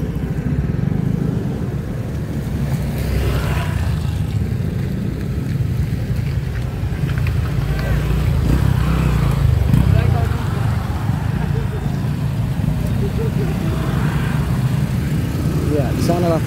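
A motorcycle pushes through rising flood water at night, a constant loud rumble and rushing wash of water and wind noise filling the whole stretch while people talk over it.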